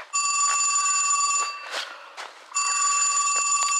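A telephone bell rings in two long, loud, insistent bursts with a brief gap between, close by and dominant, with a few faint knocks and rustles in the pause.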